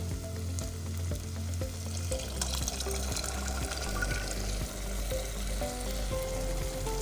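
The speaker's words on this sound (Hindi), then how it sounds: "अब मैं इसके अंदर जो है वो चने और आलू ऐड कर दूँगी" Chickpeas and potatoes dropped into hot spiced oil sizzle loudly and continuously up close, with bubbling and a low rumbling undertone throughout.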